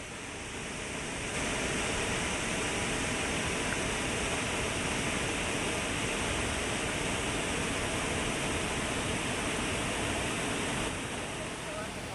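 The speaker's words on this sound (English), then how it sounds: "we're coming up to a spectacular waterfall" A spectacular waterfall on the Colorado Trail roars as a steady, dense rush of falling water, loud and unbroken throughout, with no voices over it.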